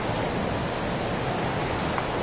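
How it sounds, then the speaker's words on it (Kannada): A stream flows beside a hostel in Mussoorie, producing a loud, dense, unbroken rush of running water heard up close with no voices. "ಈ ಹಾಸ್ಟೆಲ್ ಬಾಜುಕನ ಏನೈತಿ ಸ್ಟ್ರೀಮ್ ಹರಿಯಾಕತ್ತೈತಿ ನೋಡ್ರಿ"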